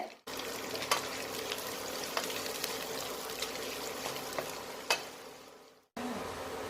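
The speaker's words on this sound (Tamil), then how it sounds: "கொஞ்சம் கிளறி விட்டுக்கிடுங்க" Chilli chicken sizzling steadily in a frying pan while being stirred, with a continuous close crackle and a few sharp scraping clicks along the way.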